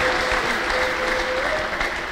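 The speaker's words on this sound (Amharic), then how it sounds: "አጨብጭቡ ከዚህ በላይ አጨብጭቡ ከዚህ በላይ" A church congregation applauds at a prophet's service, a steady wash of clapping from many hands that holds evenly loud for the whole stretch, with no voices standing out.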